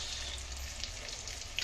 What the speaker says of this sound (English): Now, tuna slice fish frying going on.